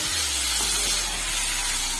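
Dried meat frying with a masala spice mix and tomato pieces in a pan over low heat gives a steady, close sizzle and hiss with a low background hum.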